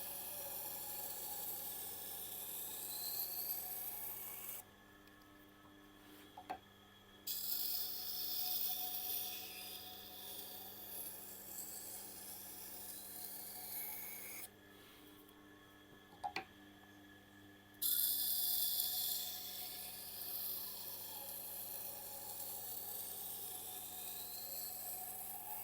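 A knife is sharpened on a Tormek sharpener, a steady whirring grind in passes broken by two short pauses and a few faint clicks, with no talking.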